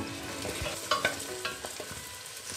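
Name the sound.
onions frying in hot oil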